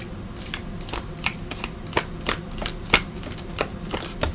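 Tarot cards shuffled by hand, a rapid series of crisp riffling flicks and soft slaps repeating in an uneven rhythm, close and clear with no talking.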